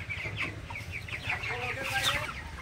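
Broiler chickens cluck and chirp on a poultry farm with a nearly empty shed, a steady layered flock chatter with low rumbling background noise and no speech.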